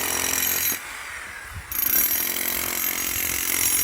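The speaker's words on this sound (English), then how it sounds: "They did the ever famous chipping out the concrete" A loud power tool runs steadily while chipping out concrete at a work site, cutting out briefly for under a second before resuming its harsh, continuous grinding roar.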